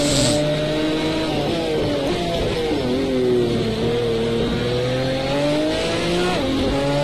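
A sports car engine drives steadily at full racing speed in the Mojave Gila Crest racing video game. The tone is loud and continuous, with pitch rising and falling through gear changes and a brief tire squeal.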